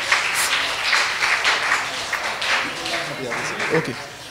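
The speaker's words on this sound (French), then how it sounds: "Vous applaudissez les enfants, les parents." Parents and spectators applaud children who won a puzzle competition in Port-au-Prince, Haiti, a busy, continuous patter of clapping mixed with voices talking over it throughout.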